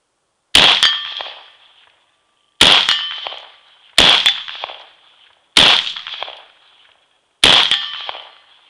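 An SU16 F rifle fires five shots at steel targets outdoors, each crack met by a bright ringing clang that decays over a second, spaced roughly one to two seconds apart with no talk.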